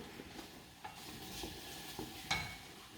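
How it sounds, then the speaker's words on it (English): Onion sweats gently in a pan of white wine sauce base, a faint soft sizzle broken by a few light stirring scrapes and small utensil taps. "So I don't want to brown this onion at all. All I want to do is sweat it."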